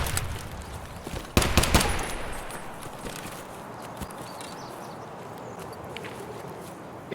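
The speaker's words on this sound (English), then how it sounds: "Why are you shooting?" Gunfire in Escape From Tarkov: a sharp cluster of several rapid shots early on, followed by quieter ambient game noise and faint movement.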